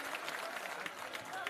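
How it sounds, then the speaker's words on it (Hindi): Audience applause at a Holi celebration gathering in Patna, a steady wash of many hands clapping together at close range, continuous and fairly even for the whole stretch with crowd noise mixed in. "एक बार जोरदार ताली इनके लिए बजाइए"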